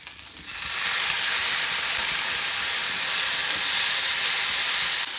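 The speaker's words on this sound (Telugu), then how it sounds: "స్టవ్ను మీడియం సైజులో ఉండి ఈ ఆనియన్, కరివేపాకు ఇవన్నీ కూడా బ్రౌన్ కలర్కి వచ్చేసే వరకు వేయించాలండి" Onions and curry leaves fry in a pan on a medium flame, a loud, steady sizzle that starts sharply and holds as a continuous hiss.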